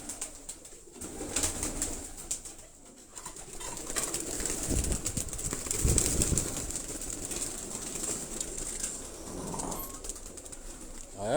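Caged pigeons coo softly in a loft, with low repeated calls and scattered rustling and wing movement, fairly close and without speech.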